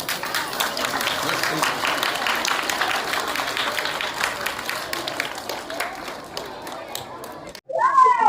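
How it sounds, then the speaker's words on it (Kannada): Audience applause at a students' scholarship event at the Arakere Sai Baba temple, a steady crowd of clapping that runs for several seconds, then cuts off and gives way to a voice at the end. "ಚಪ್ಪಾಳೆ ಹೊಡಿರಿ ಎಲ್ಲ."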